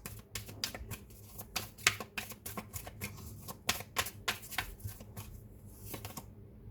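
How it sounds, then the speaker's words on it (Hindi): Tarot cards are shuffled close by in a quick, uneven series of crisp riffling slaps and flicks that continues for several seconds. No voices. "इतने सारे कार्ड्स आ गए, बट हम शफल करेंगे अच्छे से।"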